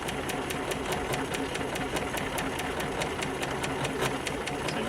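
A Spiegel 60609 sewing machine stitching decorative flowers runs steadily, its needle ticking in a fast, even rhythm over a constant motor hum, close and fairly loud throughout.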